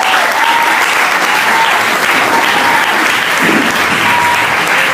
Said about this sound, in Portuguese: Vamos aplaudir o pastor Márcio.